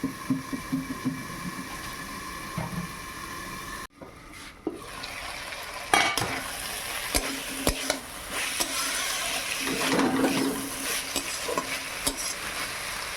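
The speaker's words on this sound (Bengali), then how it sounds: "শাকটা একটু ভালো করে কষিয়ে নেই।" Leafy greens cooked with potato, eggplant and carrot are stirred and scraped in a hot pan, soft sizzling broken by a lid clank, then louder scraping and frying that continue steadily near the microphone.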